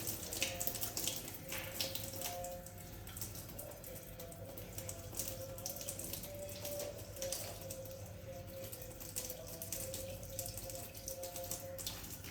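Water splashing and running continuously onto a bathroom floor where it pools instead of draining, close by, with a faint tonal hum beneath the steady flow.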